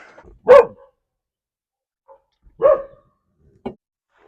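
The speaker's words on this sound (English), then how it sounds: "Y'all have dogs that just bark at thin air?" Dogs bark: two sharp, loud barks about two seconds apart, then a shorter, quieter yip, each separated by silence.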